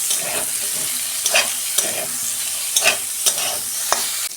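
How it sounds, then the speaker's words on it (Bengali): Cauliflower florets fry in hot oil with a steady, close hiss of sizzling, broken by a few sharp scrapes and clacks of a spatula stirring the pieces. "কপিগুলো আমি 2 মিনিট ভেজে নেব।"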